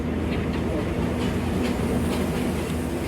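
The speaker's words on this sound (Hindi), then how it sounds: "171 अब यानी कि सियालकोट एक्सप्रेस से क्रॉस है।" The Sialkot Express passes on the railway near Narang Mandi station, a close, loud, continuous rumble with rhythmic clickety-clack of wheels over rail joints.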